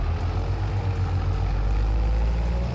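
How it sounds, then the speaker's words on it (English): A Lamborghini Urus fitted with a diesel swap in Farming Simulator 25 idles with a deep, gruff rumble like a diesel truck, steady and loud throughout with no talk. "Ooh, this thing sounds like a diesel truck."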